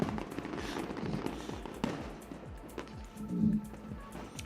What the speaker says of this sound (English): Fireworks. Fireworks.